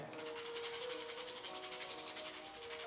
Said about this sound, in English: I've got some nutmeg, generous grate of nutmeg